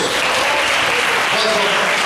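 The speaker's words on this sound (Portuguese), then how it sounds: "Aplausos para Jesus." A church congregation claps loudly during an anniversary service, a continuous dense wash of applause with crowd noise and faint voices mixed in.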